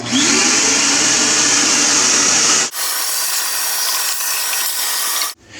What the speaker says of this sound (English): after drilling a hole, we're going to run shop vac for a second